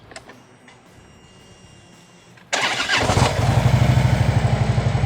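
A 2013 Harley-Davidson fitted with Cobra 909 Twins 4-inch slip-on exhausts and dual port headers fires up after a quiet stretch, then settles into a loud, close, throbbing idle with a steady uneven lope.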